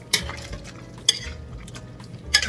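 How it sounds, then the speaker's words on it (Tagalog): A spoon stirs chicken curry in a pot, with a few sharp clinks against the metal spaced about a second apart over a low steady background and no talking. "So, haluin natin siya."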